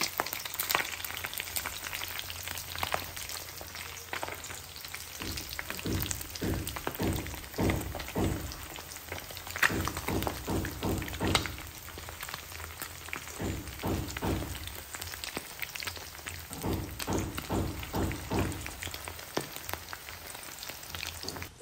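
Breadcrumb-coated chicken fries loudly in hot oil, a dense crackling sizzle that runs throughout, punctuated by repeated soft thumps and knocks, close up and without speech.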